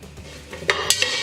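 Green onions stirred in a pan, a soft scraping stir followed by a few sharp clinks of a utensil against the pan, close and alone.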